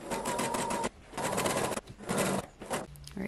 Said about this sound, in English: sew the other side of the steek, and then cut it.